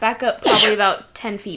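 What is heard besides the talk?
sneeze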